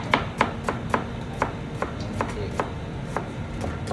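A knife chops food on a cutting board in a Khmer home kitchen: about a dozen crisp, evenly spaced strikes, close and clear, with no talking.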